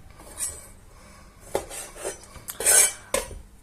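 A knife cuts a chorizo sausage into four pieces for a pork and chorizo stew, producing several clinks and taps of the blade on a plate or board, with one brighter scrape near the end.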